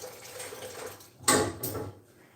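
Water runs briefly from a tap into a pot of potatoes, a faint quiet trickle that swells into a short splashing burst and then fades away.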